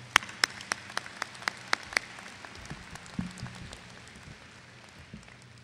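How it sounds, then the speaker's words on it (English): A few sharp, evenly spaced claps from a Hightstown High School 2014 graduation audience ring out after speeches, about eight distinct hand claps over two seconds before fading into quiet room murmur. "Let's give a little applause for those great speeches."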